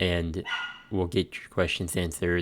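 A dog barks a few times in the background of a home setting while a person keeps talking over it.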